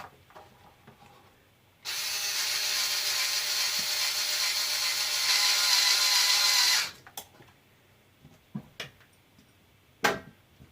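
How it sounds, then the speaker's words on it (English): A whirring electric screwdriver runs steadily for about five seconds, set to its lowest torque, driving screws into a Losi LMT Vitavon 7075 aluminium front axle housing on an RC truck, followed by faint clicks and handling. "I do find it easier with the electric screwdriver to get these started"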